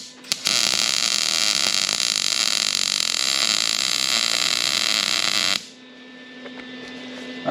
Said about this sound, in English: I'm welding really hot too